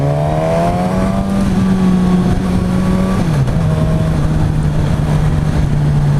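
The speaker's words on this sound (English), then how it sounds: "I'm gonna leave it in 2nd gear here and just use a clutch" A 2016 Suzuki GSX-S1000 motorcycle rides in second gear, its engine holding a loud, steady drone that rises slightly, dips briefly, then settles again, with no talk.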